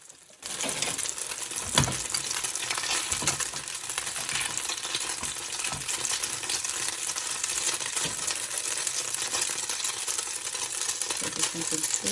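Steady, crackling sizzle of a croque monsieur frying in a pan, continuous and fairly close, with occasional small clinks over the hiss.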